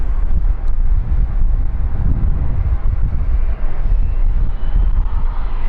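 An ATR turboprop airliner starting its engines at London City Airport, a steady loud broadband roar with low rumble and wind buffeting on the microphone, continuous throughout with no talk.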